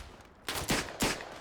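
A quick burst of gunfire in the World War I shooter Verdun, two or three loud close shots spaced about a quarter second apart, rough and noisy over a rumbling battlefield background.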